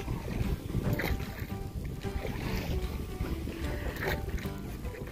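A small boat rowed on water in Norway, a continuous wash of water and wind noise close to the microphone, fairly steady throughout with no clear speech.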